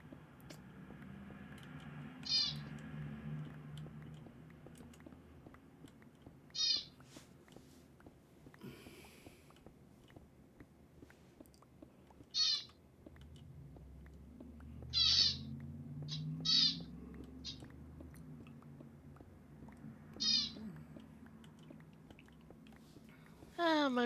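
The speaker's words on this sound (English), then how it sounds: "My birds seem upset with me." Pet birds calling indoors, sharp high chirps and squawks arriving in short separate bursts every few seconds over a quiet background with a faint low hum.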